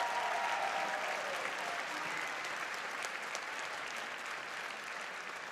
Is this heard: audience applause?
yes